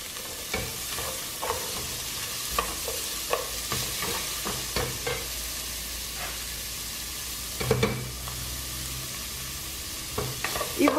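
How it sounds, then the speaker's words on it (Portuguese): Garlic and onion sizzle steadily in a hot pan, with repeated scraping stirs of a utensil breaking through at irregular intervals. "Depois que eu fritei um pouco meu alho e a minha cebola"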